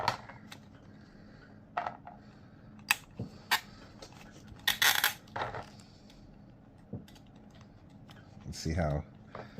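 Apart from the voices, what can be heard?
ratcheting joints of a King Shark action figure being posed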